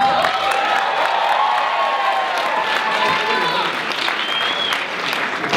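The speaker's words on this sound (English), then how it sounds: "Everyone, round of applause." Audience applause for a volunteer called up onstage at a BYU show, dense steady clapping from a crowd close by with scattered cheers and whoops throughout, loud and sustained without letting up.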